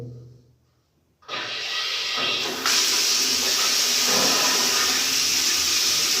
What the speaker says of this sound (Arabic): نشغل تاني